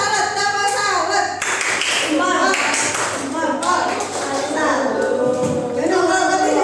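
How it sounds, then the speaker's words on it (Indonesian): Fifth-grade children perform a patterned clap salute for group 3 in a classroom, bursts of rhythmic group clapping alternating with children's voices and chanting, loud and close throughout. "Ayo kelompok 3 tepuk salut,"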